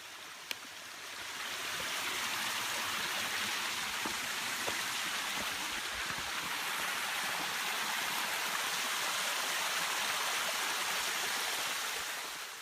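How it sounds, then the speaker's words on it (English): Berry Creek Falls in Big Basin Redwoods State Park, still flowing during a severe drought, gives a steady, broad rush of falling water that fades in and holds evenly, close and alone with no voices. "despite the horrible drought out there, the waterfalls were still going"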